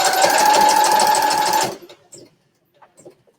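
A sewing machine stitches down a quilt in a steady, loud mechanical whir lasting under two seconds, then stops abruptly, leaving only faint soft handling noises afterward.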